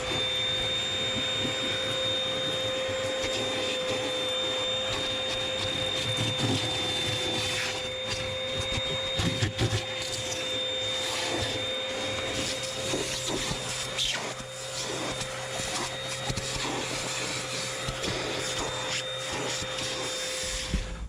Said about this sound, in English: we're just going to vacuum the Jeep